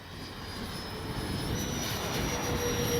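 A Freewing 80mm A-10 Thunderbolt RC jet with its landing gear down makes a pass, the electric ducted-fan whine rising in pitch and growing louder as it approaches from a distance.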